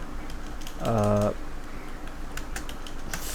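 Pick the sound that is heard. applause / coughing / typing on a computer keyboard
typing on a computer keyboard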